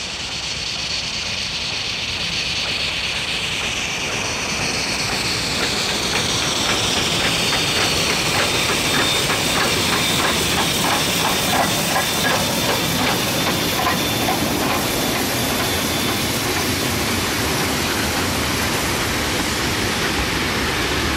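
Steam locomotive AV608 stands being serviced and watered by a heritage crew, giving off a steady, loud broadband hiss of escaping steam that runs continuously with no talk.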